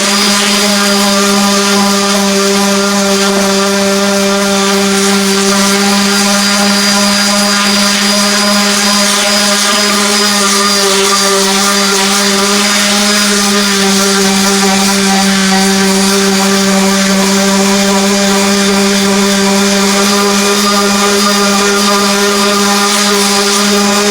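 A power sander sanding a cabinet door runs loud and steady without pause, its motor whining in a constant buzzing drone throughout.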